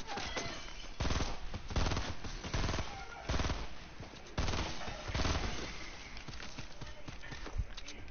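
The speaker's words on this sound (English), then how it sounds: "Fuck, are you shooting behind you?" Rapid gunfire in the Fortnite video game, repeated bursts of loud automatic shots cracking in quick clusters with brief gaps between volleys, close and dominant throughout.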